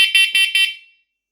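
A smoke and carbon monoxide alarm gives four quick, loud, shrill beeps in a row, then falls silent.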